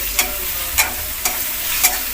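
Sautéing in oil in a pan on the way to a potato bhaji for masala dosa: a steady, close sizzle broken by four evenly spaced scrapes of a spatula.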